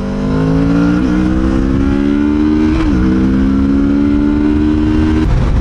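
Stock exhaust of a Kawasaki Z650RS motorcycle riding along, a loud, steady engine drone that shifts pitch with brief gear-change dips around the first and third seconds, close and continuous with no talk.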